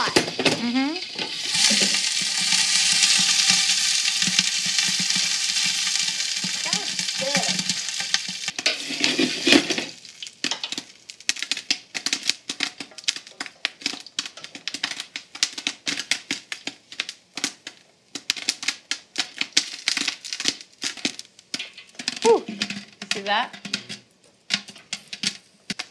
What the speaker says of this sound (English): you can hear the popcorn now